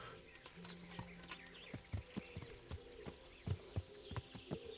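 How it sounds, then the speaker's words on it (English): Horse hooves clip-clopping at a steady walking pace in the video game Kingdom Come: Deliverance, fairly quiet, with faint birdsong and ambient outdoor noise in the background. "Pressing E to get on the horse again."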